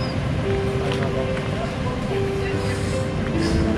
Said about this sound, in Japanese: 今日が波がいいだからね